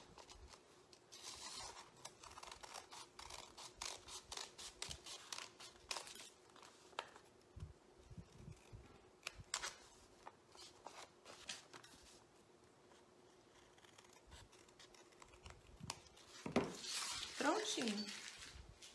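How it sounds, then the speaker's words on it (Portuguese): Scissors cutting a paper pattern circle for a fabric emoji cushion, a series of faint close snips and paper crinkles, with a brief louder rustle near the end. "E você vem cortando esse círculo."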